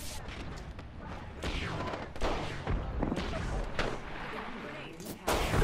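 Grenades exploding during a team firefight in a first-person shooter game, repeated booms and gunfire bursts mixed with dense battle noise, under players' voices.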